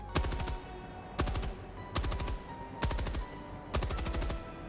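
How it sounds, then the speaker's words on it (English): LMG firing in the video game Helldivers II, five short rapid-fire bursts of heavy automatic shots at a steady rhythm, loud and alone. "And I'm gonna fire a few bullets"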